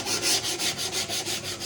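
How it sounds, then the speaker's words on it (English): Hand sanding along the edges of a wooden piece, rhythmic back-and-forth rubbing strokes in a steady repeating pattern, close and clear with no talking. "I'll just do a hand sand on all the edges"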